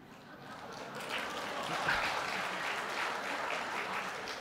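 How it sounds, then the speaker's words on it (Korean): A church congregation applauds during a Sunday service, a steady, dense clapping that swells after the first second and holds at an even, moderately loud level to the end. "박수니까 한 번 더 하라는 것 같은데"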